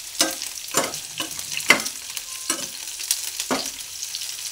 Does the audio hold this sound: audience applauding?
no